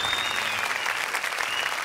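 Studio audience applause on a Turkish folk music show after a singer's performance, a brief, even wash of clapping from many hands heard at moderate distance.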